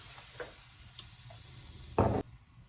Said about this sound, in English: First, you have to heat your pan and put your dates on it.